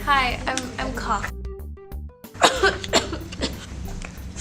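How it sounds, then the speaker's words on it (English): A voice speaks, broken by several rough coughs in quick bursts, close to the listener, from a person with tuberculosis. "Hi, I'm coughing."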